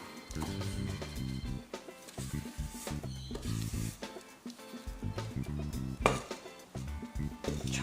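A spatula scrapes cake batter from a mixing bowl into a baking tin, irregular clinks and scrapes of utensil against bowl, close and moderately loud, over quiet background music.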